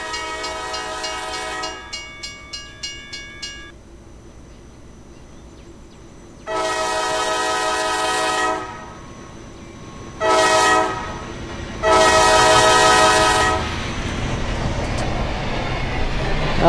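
Synthetic train sounds from the ProtoRo railway game: a horn blast with clicking wheels, then several further horn blows of varying length over a low rumbling rail background.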